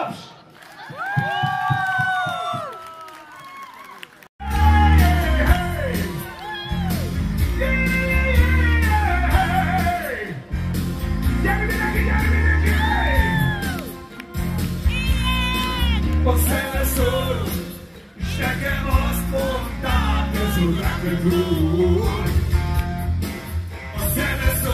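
An audience at a live concert in Dunaújváros cheers, whoops and shouts loudly with music playing, a dense sustained crowd roar running through most of the stretch.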